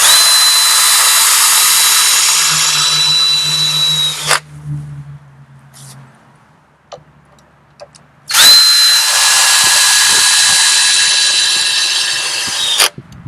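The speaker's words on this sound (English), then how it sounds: "screwing it in with the 3 deck screws" A power drill drives deck screws through 2x6 wooden boards into a post while building a raised garden bed, two long loud whirring bursts split by a quiet pause with faint clunks.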